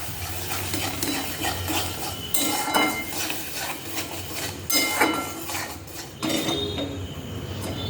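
A spice mix with tomato and a splash of chhena water stirred and sautéed in a pan, with irregular metallic scrapes and clanks of the spatula against the pan over a soft sizzle, close by and without speech.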